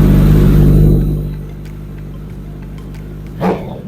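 A Kawasaki ZX14R motorcycle with an aftermarket Brock's street bag exhaust on a dyno gives a loud, deep rev that quickly fades to a quieter running note, with a brief sharp yelp near the end.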